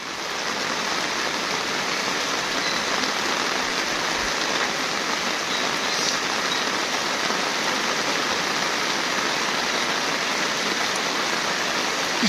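Steady, dense rain pours down continuously, a close, even hiss with no pauses and no voices.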